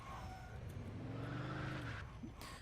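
A car in the video game Mafia 2 skidding as it is pulled in to park: an engine drone with a drawn-out tire screech, fairly loud and steady, ending in a short rough scrape.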